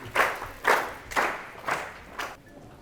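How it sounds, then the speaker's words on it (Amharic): A small group claps in about five loose, rhythmic bursts for a student contestant at a children's quiz show on Ethiopian television. The clapping is fairly close and fades out by the end. "አጨብጭቡለት በደንብ አድርጋችሁ"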